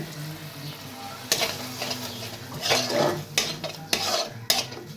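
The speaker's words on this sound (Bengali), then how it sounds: "2-3 মিনিট ধরে এই সর্ষে বাটাটাকে একটুখানি আমি মশলাটার সাথে" Mustard paste being stir-fried with spices in a pan: a spatula scrapes and knocks against the metal in irregular strokes over a low sizzle, close and fairly loud.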